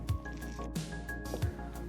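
Soaked, swollen gelatin sheets squeezed out of water in a kitchen make a few close, wet squishes and drips at an uneven pace, with no talk.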